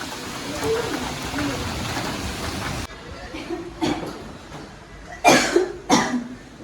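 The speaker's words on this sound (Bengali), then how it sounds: "তো দেখতেই পাচ্ছ বাইরেটা কতটা পরিমাণে বৃষ্টি হচ্ছে।" Heavy rain pours outside during Cyclone Remal, a dense steady hiss for the first few seconds. It then drops to a softer wash broken by several short, sharp bursts like coughs.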